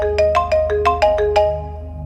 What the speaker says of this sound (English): I woke up again to the sound of my phone's alarm clock blasting